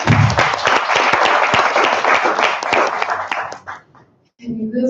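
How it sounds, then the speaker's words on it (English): Applause from a room of energy conference attendees honoring SPE members present, dense clapping loud and near that sustains for about four seconds before fading abruptly into quiet, then a voice resumes. "So let's give them a clap here."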